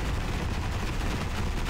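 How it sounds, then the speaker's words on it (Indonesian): Tank cannon fire from the MWT Tank Battles game, using a Leopard 2A7 Plus tank: a dense, continuous barrage of loud booming blasts that packs the whole stretch, with no speech. "Tembakin terus, tembakin terus."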